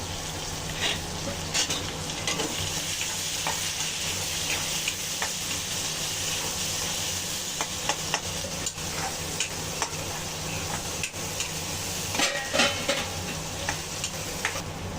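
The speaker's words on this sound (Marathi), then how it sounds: "मग कांदा आपला लवकर फ्राय होतो" Onions fry in a pan with salt, giving a continuous dense sizzle, while a utensil stirs and scrapes with irregular clicks throughout.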